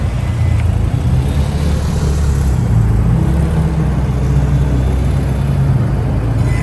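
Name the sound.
motorcycle engine at low speed with clutch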